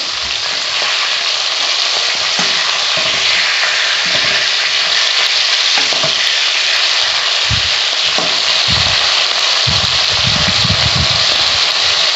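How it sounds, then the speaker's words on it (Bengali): Tangra fish frying lightly in oil: a loud, dense, unbroken sizzle close by, with occasional low thumps and bubbling bursts toward the end. "মাছটা আমি খুব একটা কড়া করে ভাজবো না হালকা লাল করেই ভেজে নেব"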